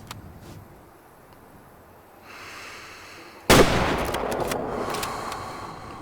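Rifle fire in the hunting video game Way of the Hunter 2: one sharp, loud shot cracks out midway and rings into a long decaying tail, after a quiet lead-in with a faint mechanical shift.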